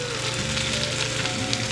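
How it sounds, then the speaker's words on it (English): Cabbage and onion frying in butter in a pot give a steady, close, loud sizzle and crackle with no talk. "we'll let that sizzle around for a second"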